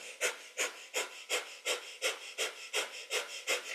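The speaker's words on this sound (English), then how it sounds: "So breath of fire is our panting breath through the nose." Rapid, even nasal panting of kundalini yoga breath of fire, about ten sharp rhythmic exhalations in under four seconds, close and clear with no talking.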